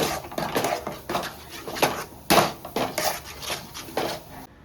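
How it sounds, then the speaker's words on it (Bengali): Village-style sweet, sour and spicy olive pickle being stirred in a kadai, a close series of rhythmic scraping and clattering strokes of a utensil against the pan, about a dozen in quick succession, with no talking. "এখন আমি একটু নেড়ে মিশিয়ে দিয়ে ঠান্ডা করে আমি আচারটা বানিয়ে নেব"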